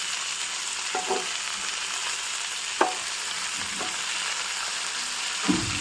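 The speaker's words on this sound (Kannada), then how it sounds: "ಬೆಳ್ಳುಳ್ಳಿ ಮತ್ತೆ ಚೂರು ಬೆಳ್ಳುಳ್ಳಿ ಮತ್ತೆ ಶುಂಠಿ ಹಾಕೊಳ್ಳೋ ಸಣ್ಣ ಫ್ರೈ ಆಗಬೇಕು" Garlic and ginger fry in a pan with a steady sizzle, broken by a few short stirring scrapes, close and fairly loud.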